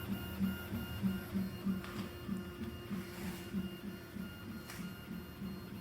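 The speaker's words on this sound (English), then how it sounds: "I believe this is printing at about 200 millimeters per second currently. With that 4028 blower fan cooling." A Ratrig Vcore 3D printer prints at high speed with a 4028 blower fan cooling, giving rapid rhythmic stepper whirs over a steady fan hiss, close and moderately quiet.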